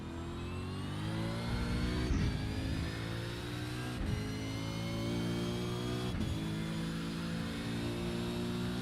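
A V8 race car engine in a sim racing game at Twin Ring Motegi revs hard and climbs repeatedly in pitch, with sharp gear-shift drops roughly every two seconds, loud and close with no talk.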